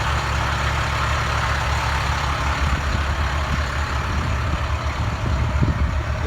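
A 2011 International Altec utility bucket truck idling nearby, a steady low diesel rumble that holds even throughout with no voices.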